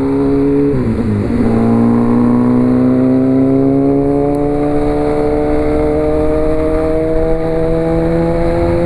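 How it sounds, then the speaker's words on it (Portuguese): A Honda CB 1000R four-cylinder motorcycle revs loudly and close by. Its engine note dips briefly, then climbs in a smooth, sustained rise throughout. "É massa que a galera escuta o barulho e sai de longe da motoca."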